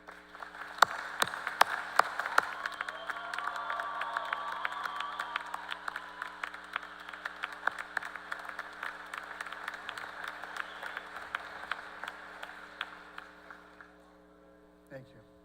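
Sustained applause from a seated audience honoring faculty at a Purdue University Northwest commencement in Westville, steady dense clapping over a low mains hum for about fourteen seconds before fading out.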